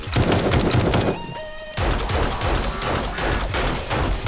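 Rapid automatic gunfire from a machine gun mowing down zombie hordes in the survival game 7 Days to Die, loud dense bursts that break off briefly for a ringing tonal lull, then resume in steady rattling volleys.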